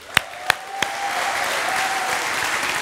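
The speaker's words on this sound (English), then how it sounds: "Give it a round of applause for the wonderful worship team." A church congregation applauds its worship team: three sharp, loud claps ring out first, then the whole room joins in with a steady wash of clapping.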